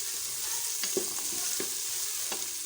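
Onions frying with garlic-ginger paste being stirred in while making chicken feet, a steady close sizzle with a few scraping stirs of the spoon against the pan and no talking.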